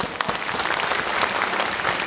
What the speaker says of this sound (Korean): 다시 한번 힘찬 박수 부탁드립니다